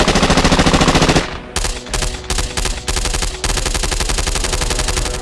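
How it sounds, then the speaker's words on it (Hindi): Indiscriminate automatic gunfire by ISIS militants at security forces, a rapid machine-gun burst, a few brief pauses, then sustained continuous firing, loud and close with no voices. "आईएसआईएस के आतंकी चलते ऑटो से उतरकर सुरक्षा बलों पर अंधाधुंध फायरिंग करते हैं"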